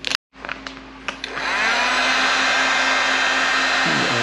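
A heat gun blows hot air onto vinyl car wrap, starting with a few brief bursts and then settling into a steady, loud, close-up whooshing drone for several seconds.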